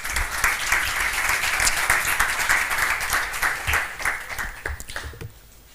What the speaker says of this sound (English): Welcome. A round of applause, please.